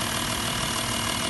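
Diesel tractor engine idling in a steady, even rumble with a rough low knock, heard up close and alone for a brief moment.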